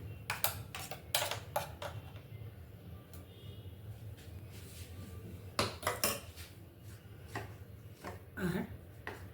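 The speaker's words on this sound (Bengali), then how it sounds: "এবার এখানে 2 চামচ পেঁয়াজ বাটা দিয়ে দেবো।" A spoon scoops onion paste into a bowl for a paneer tikka marinade, giving sharp metallic clinks and scrapes in short clusters, close by with a quiet background.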